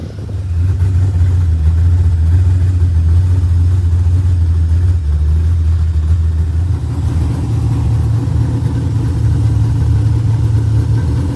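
A rented bracket-racing car's engine runs steadily on a 100-degree day, a loud, close, low droning rumble that holds nearly constant throughout with a slight dip partway, no voices.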